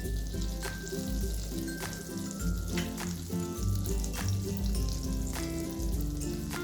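Butter and a little oil sizzling steadily in a hot pan while cooking chicken malai tikka, a dense close crackle with soft pops running throughout, and no voices.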